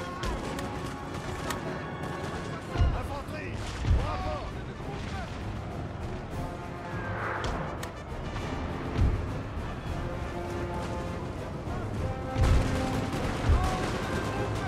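Musket volleys from Napoleonic infantry in the strategy game Napoleon: Total War crack at scattered moments over a dense battle din and music, while a player talks throughout.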